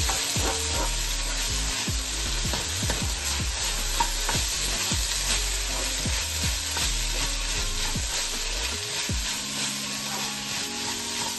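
Chicken frying in pork oil, a loud continuous sizzle with repeated scraping and stirring strokes of a utensil against the pan, no talk heard.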